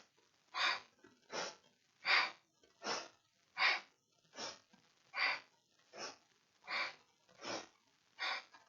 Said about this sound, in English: Just make sure you're having some nice powerful breaths as you do it.